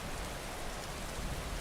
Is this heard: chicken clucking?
no